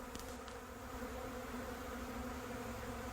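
A swarm of wild honey bees fills the air with a steady, dense buzzing drone near a swarm trap, continuous and close with no talking.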